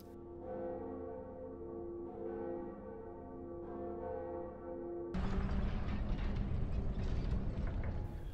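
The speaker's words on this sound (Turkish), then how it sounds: "İkinci çan." A deep church bell in the video game Dark Souls tolls with long ringing overtones, then a loud rumbling roar floods in and drowns it out.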